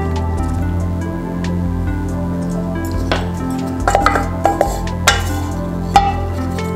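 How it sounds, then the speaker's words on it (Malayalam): Baji chilli curry scooped from the pan into a bowl, with wet squelching spoonfuls and scattered clinks of utensil against cookware over a low steady background hum. "ഇനി നമുക്ക് ഇതിനെ ഒരു ബൗളിലേക്ക് മാറ്റി കൊടുക്കാം"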